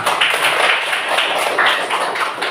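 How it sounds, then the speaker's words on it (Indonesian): Steady applause fills the room for a woman named Ibu Asana at an Indonesian teachers' program event, a dense continuous patter of many hands clapping at even loudness throughout. "Kita kasih aplaus dulu untuk Ibu Asana"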